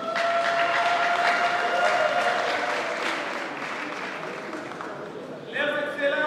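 Applause from a congregation for an honoured guest standing during a Catholic youth coordination installation Mass in Bandundu, steady and broad, fading a little before a musical tone enters near the end.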